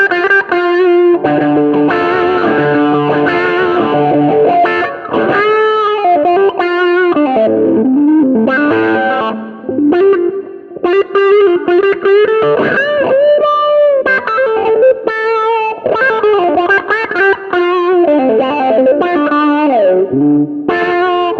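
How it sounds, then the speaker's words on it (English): An AITONE autowah envelope filter pedal sweeps an electric guitar through vocal, quacking wah tones, with sustained notes and busy runs playing loud and continuous, briefly thinning out near the middle, with no voices. "they both produce a wah sound in practice and in function"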